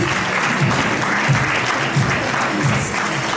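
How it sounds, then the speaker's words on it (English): A big round of applause from the audience at a teachers' award ceremony, continuous and even with a few louder individual claps standing out. "Can we hear a big round of applause for him, please?"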